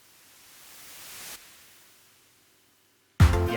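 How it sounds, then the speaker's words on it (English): A white noise riser in a modern gospel beat built in FL Studio swells steadily for over a second, cuts off, fades to near silence, then a loud sharp hit lands at the end. "This is how to get the white noise."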